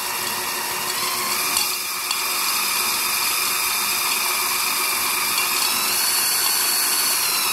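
A power drill bores a hole with a steady, high whine that runs for several seconds, close and continuous, its pitch holding nearly constant.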